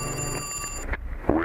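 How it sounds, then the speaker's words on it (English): A telephone bell rings in the intro of a song, with reversed speech around it, steady for most of the moment before cutting to brief sparse sounds. "In the beginning, you hear a phone ringing with reverse speech."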